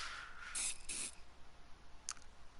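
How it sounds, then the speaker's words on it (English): Bug spray hissing in a post-apocalyptic survival video game, several short sharp spray bursts of varying length, close and clear with no talking. "we're gonna use that bug spray that Sherikov found, because why not?"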